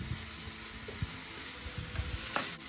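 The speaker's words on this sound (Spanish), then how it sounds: "Ya que miren que los camarones se están resecando, se le agrega la cebolla" Shrimp sizzling in a frying pan as sliced onion goes in for green spaghetti, a continuous close hiss of frying with a few soft stirring knocks and scrapes, no voices.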